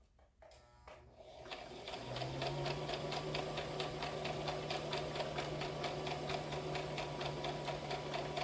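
A sewing machine starts up and runs a steady back stitch on a pair of pants, giving a close, even, rapid mechanical chatter with a low motor hum, and no one speaks.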